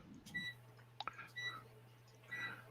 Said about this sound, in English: That's my dehydrator turning off.